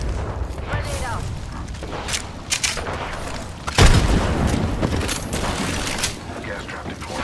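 Grenade explosion in the Rainbow Six Siege video game, one sharp booming blast midway through, set among gunfire bursts, mechanical clatter and clicks, with talk running underneath.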